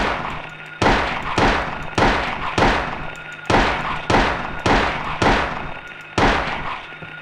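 Eight loud, evenly spaced single gunshots in Silent Hill 1, each a sharp crack with a short ringing decay, fired one after another at a steady pace.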